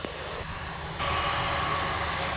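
A JetBlue airliner comes in to land on runway 25 at Montego Bay, Jamaica, a steady aircraft engine roar that swells louder partway through, heard from a distance without talk.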